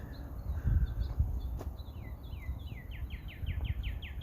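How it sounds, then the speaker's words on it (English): Sparrows and a cardinal sing outdoors, with a run of quick, bright, downward-slurred whistles repeating faster toward the end over soft low rustling background noise. "I hear some sparrows and I hear a cardinal."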